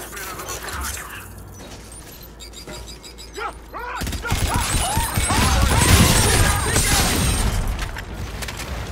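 A loud blast and crashing debris erupt in the Call of Duty Infinite Warfare video game, followed by clattering mechanical noise and voices shouting over the chaos.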